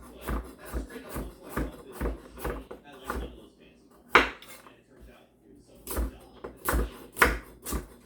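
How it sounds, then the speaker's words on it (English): Kitchen knife slicing vegetables into slices and cubes on a cutting board while preparing steamed salmon over rice, a series of sharp, irregular close chops and taps with pauses between bursts, mixed with brief speech. "we're just gonna cut them into some slices and then some cubes"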